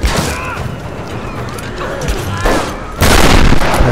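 Rapid bursts of gunfire from Lara Croft in Tomb Raider Definitive Edition on PlayStation 5, loud and dense, with a heavier blast near the end. A voice talks over the shooting.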